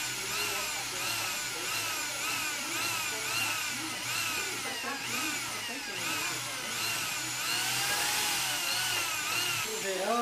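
A continuous high-pitched drill whine with rising and falling pitch sweeps, grinding steadily through a plastic flower pot at close range.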